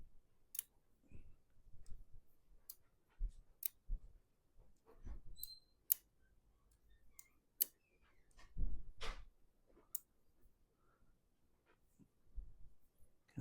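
A Knafs Lander knife being tightened and adjusted with a small driver, scattered faint close clicks and scrapes at irregular intervals, with a short rattling fumble midway, no voice.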